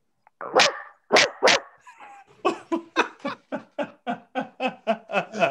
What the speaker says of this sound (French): il va te japper après, Guy